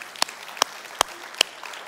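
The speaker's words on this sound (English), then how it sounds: "You can clap for that." Four sharp, separate hand claps at a church service, evenly spaced about every 0.4 seconds and fairly close, with quiet room tone between them rather than full congregational applause.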